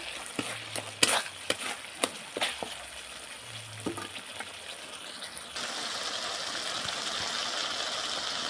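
Spice masala with salt sautéed in a pan for a cauliflower and potato dish: sharp spoon clacks and scraping stirs over a soft sizzle that swells into a steady, louder frying hiss in the second half.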